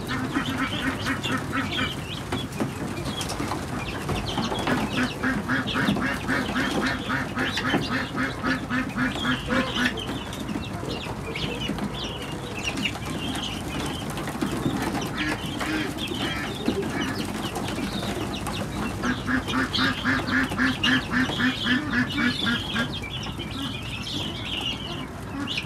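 Ducks, geese, chickens and other poultry feed on egg together, with steady quacking and clucking from a flock, bursts of loud rhythmic quacks rising and falling over continuous bird chatter.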